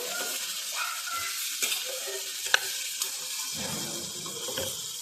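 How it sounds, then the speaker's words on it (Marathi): Ivy gourd (tondli) coated in masala being stirred and tossed in a pan, with repeated scraping strokes and clicks of the spoon over a steady sizzle. "आणि चांगली मिक्स करून घेऊया, वर खाली करून घेऊया। सगळा मसाला तोंडलीला लागला पाहिजे।"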